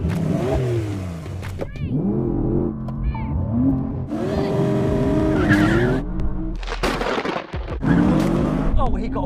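A Porsche 911 and a Nissan GT-R NISMO launch side by side in a drag race, engines roaring and revving through rising gear shifts as they pull away, loud and sustained, while people talk excitedly over the noise.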